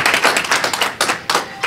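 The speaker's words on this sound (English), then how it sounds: "Another round of applause." A small audience claps for a panel of women, a few close, uneven handclaps rather than a full ovation, tapering off after a moment.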